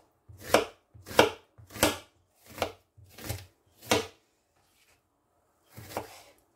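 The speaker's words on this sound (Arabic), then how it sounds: "دابا غندوزو البصيله حتى هي غنقطعوها" A knife chops a small onion on a cutting board with six crisp, evenly spaced thuds. After a brief pause, one more chop follows, close and clear with no talking.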